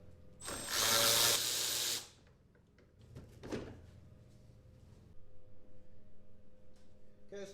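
A power tool whirs in one loud, sustained burst while removing 7mm bolts from a car intake duct, followed by a shorter second buzz and then softer mechanical ticking close by.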